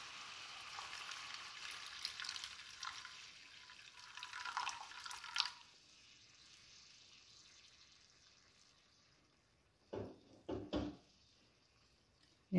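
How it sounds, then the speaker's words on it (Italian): Vegetable broth pours into a lemon sauce for tagliolini. A hissing liquid splash runs for several seconds and then stops, followed by quiet and a few short bumps of pan or utensil. "adesso aggiungiamo il brodo vegetale"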